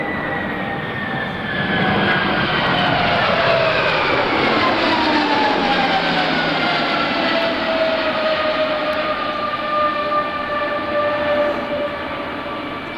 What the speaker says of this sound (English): High-speed pass, C-5 Galaxy.